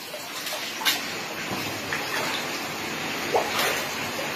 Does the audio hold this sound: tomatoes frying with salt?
no